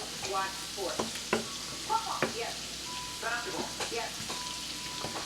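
Garlic sizzling and starting to brown in a pan before shrimp go in: a steady, soft crackle and spatter up close, with occasional stirring scrapes and a speaking voice in places.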